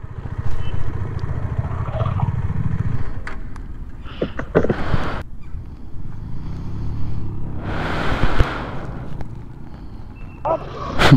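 A Pulsar motorcycle rides along a road past army checkposts. A low, steady engine drone runs through the first seconds, then gusts of rushing wind and passing noise follow, with some voices mixed in.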